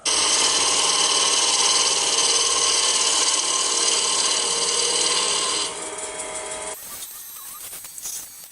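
A wood lathe turns a yew bowl as a tool cuts shavings, giving a loud, continuous hissing scrape that drops in level partway through, then falls to a quieter rough rasp before stopping.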